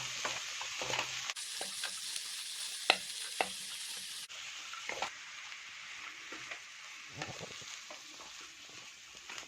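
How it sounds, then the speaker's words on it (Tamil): Mashed potato and mixed vegetables fry in a pan for veg cutlets, a steady close sizzle broken by repeated scraping stirs of a spatula. "ஆட் பண்ணிட்டு இந்த வெஜிடபிள்ஸோட மிக்ஸ் ஆகிற மாதிரி நல்லா மிக்ஸ் பண்ணிக்கோங்க"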